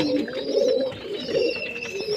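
Pigeons in a loft coo steadily and close by, a continuous overlapping murmur of cooing from several birds throughout.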